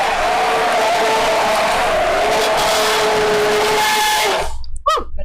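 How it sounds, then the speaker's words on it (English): A stick blender runs loud and continuous as it blends eggs, its motor whine shifting slightly in pitch before it stops abruptly, followed by a few faint clinks. "I am going to blend this up with a stick blender"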